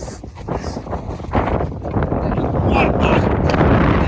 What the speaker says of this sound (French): c'est la tempête là